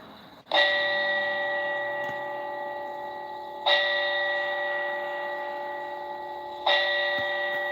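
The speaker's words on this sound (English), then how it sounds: "So they ring the bell 4 times." A bell rings three times at slow, even intervals, each strike ringing out and decaying before the next, with no talking.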